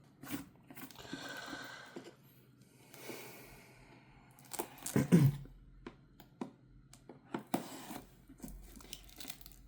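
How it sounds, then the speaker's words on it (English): Packaging of an MSI Forge GK600 TKL Wireless keyboard is unboxed, with bursts of crinkling and tearing, scattered sharp clicks and handling thuds at close range, some broken by short pauses. "let's just unbox the MSI keyboard and see what we got"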